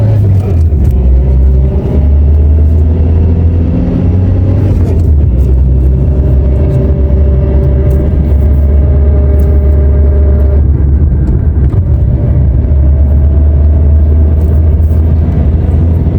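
A Nissan Primera P11 engine rumbles loudly from close by as it pulls away, with low droning tones shifting in pitch while the car accelerates.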